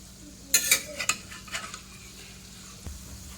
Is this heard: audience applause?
no